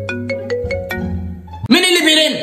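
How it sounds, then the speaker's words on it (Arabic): A phone ringtone plays loudly and close, a steady melodic electronic tune with repeated notes that shifts to a brighter, higher passage near the end, with no talk over it. "مين اللي بيرن ده؟"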